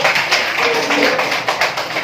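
Schoolchildren in a classroom clapping for a classmate, a quick rhythmic patter of small hands, with a teacher's voice briefly over it.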